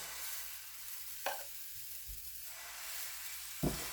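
Millet (bajri) flour dosa batter spread onto a hot griddle gives a quiet, soft sizzle and hiss, punctuated by a few brief scraping or spreading clicks; no voices.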